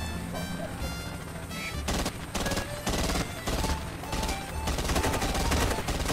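Gunfire in IGI 2 during the airfield mission, dense and continuous, with rapid overlapping shots and bursts at close range that build through the clip.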